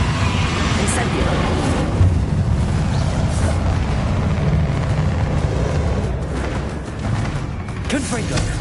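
The Incendio fire spell in Hogwarts Legacy unleashes a loud, continuous roaring whoosh of flames with crackling bursts over a heavy low rumble of combat noise.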